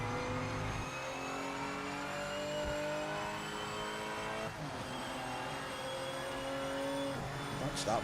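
Race car engines drone steadily in the Project Motor Racing video game, with layered tonal whines from several cars running close together, loud and continuous throughout with a brief tyre noise near the end.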